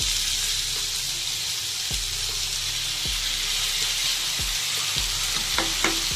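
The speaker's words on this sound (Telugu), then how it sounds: "స్లోగా ఇలా మనం మిక్స్ అయ్యేలా కలుపుకోవాలి" A spoon stirs mint and green chilli paste into vegetable biryani frying in a pan, giving a steady close sizzle broken by several scraping strokes at a slow, regular rhythm, with no talk.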